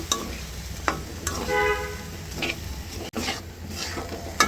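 Bean seeds are stir-fried in a pan of cooked-down spiced masala, a steady sizzle broken by scraping stirs, with a brief horn-like tone from outside.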